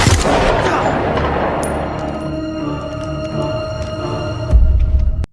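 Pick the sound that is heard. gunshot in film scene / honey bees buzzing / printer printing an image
gunshot in film scene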